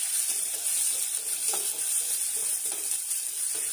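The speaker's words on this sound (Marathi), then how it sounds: "कांद्याचे काप कुकरमध्ये टाकायचे आहे आणि परतून घ्यायचे आहे" Steady sizzling of sliced onions frying in hot oil in a pressure cooker, with faint scraping and stirring clicks now and then over the constant hiss.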